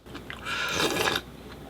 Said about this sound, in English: I'm getting tired of chewing.